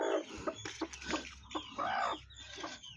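A native-breed hen clucks and murmurs close up, with quick tapping pecks mixed between the calls.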